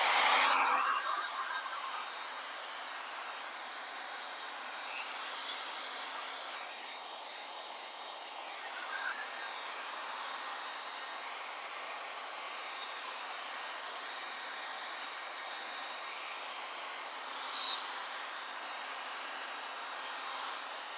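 Hair dryer blowing over template paste, a steady faint airy whoosh running continuously, with slight swells as it moves across the surface; no talking.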